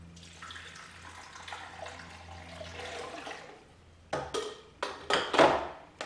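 Water poured into a coffee maker's reservoir, a steady splashing stream for several seconds, then a few sharper splashes and clunks close by.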